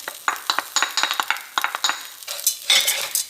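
Garlic sautéing in a pan, heard as a run of close, quick scrapes and metallic clinks from a utensil stirring against the pan, with a brief soft sizzle toward the end.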